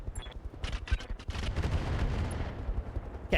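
Mech weapons open fire on a Trebuchet mech in the RogueTech game, a rapid salvo of booming shots and blasts that builds into a heavy continuous barrage before tapering off, ending with one more sharp hit.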